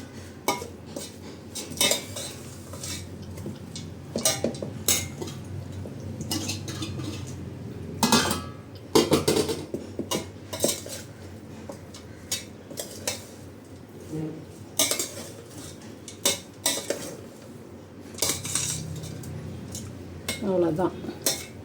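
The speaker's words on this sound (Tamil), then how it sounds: "இப்போ அதுக்கு தேவையான சாதத்தை போட்டு அப்படியே கிளறிட வேண்டியது தான்." A spoon scrapes and clinks steadily in a pan as cooked rice is stirred and mixed for cucumber rice, with repeated metallic knocks against the pan and a voice talking over it.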